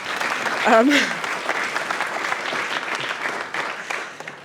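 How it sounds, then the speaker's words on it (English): Audience applause at a welcome event marking more than 45 years of adventures, a dense steady wash of clapping from a crowd, with a brief voice or whoop rising near the start. "which I think actually deserves a round of applause, just right there"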